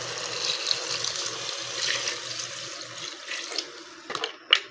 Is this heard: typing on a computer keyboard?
no